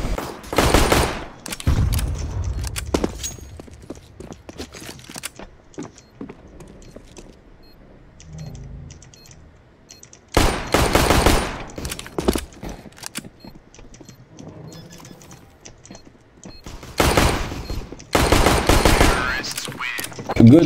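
Gunfire in the Counter-Strike video game on the Vertigo map, loud clustered bursts of shots separated by quieter stretches with footsteps and light mechanical clicks, voices talking at times.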